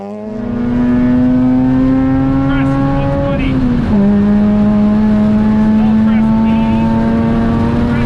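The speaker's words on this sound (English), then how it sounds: "Eric Vanderwall and Pat Hooper, driving a Mazda RX-8, refused to lift off the throttle" A Mazda RX-8 rally car at full throttle on a forest rally stage, its high rotary engine note sustained and loud with a brief dip and shift near the middle before climbing again; a voice talks over it.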